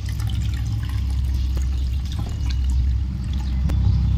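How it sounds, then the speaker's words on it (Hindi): Flattened rice (poha) is rinsed with water in a bowl during cooking, producing a steady, close-up sloshing and trickling of water with faint clinks. "तो पोहे को हम 2 से 3 पानी से अच्छे से इस तरह से वॉश कर लेंगे ताकि इसमें जो भी गंदगी हो वो अच्छे से निकल जाए।"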